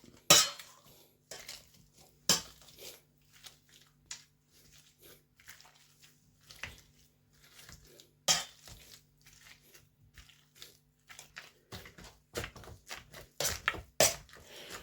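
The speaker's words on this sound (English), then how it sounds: "so now we're going to mash all these up" Fish cake mixture of mackerel and tuna being mashed in a bowl, with irregular soft thumps, scrapes and occasional sharp clinks of utensil against dish, close and moderately loud, with quiet pauses between bursts.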